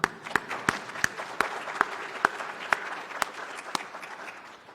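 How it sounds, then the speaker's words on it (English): Audience clapping at a public health workforce event, a dense, even patter of many hands with sharp individual claps standing out, steady and gradually easing. "a round of applause"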